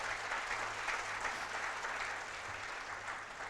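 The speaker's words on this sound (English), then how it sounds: "Let's give him a round of applause." An audience at the 2023 Indo-Pacific Global Peace Leadership Conference keynote applauds, and a dense, even wash of clapping fills the hall without a break.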